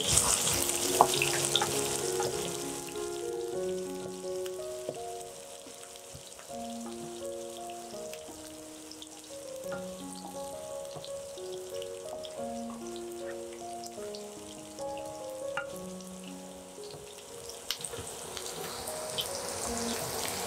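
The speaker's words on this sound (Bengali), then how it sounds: "তেল গরম হয়ে গেছে, আমি পেঁয়াজ কুচিগুলো এখানে অ্যাড করে নিচ্ছি। পেঁয়াজ আমি অ্যাড করে নিয়েছি এবং ভালোভাবে ভেজে নিচ্ছি।" Chopped onions fry in hot oil with a steady, moderately quiet sizzle and crackle that lasts throughout, with soft background music underneath.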